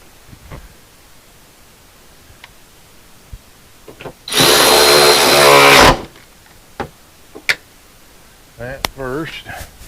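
A power tool runs on a seat bolt nut inside a 2002 Ford F350 under rust repair, whirring loudly and close for about one and a half seconds, set among scattered clanks and knocks, with brief speech at the end.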